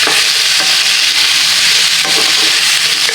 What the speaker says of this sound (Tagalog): So i-stir lang natin para maging mabango guys.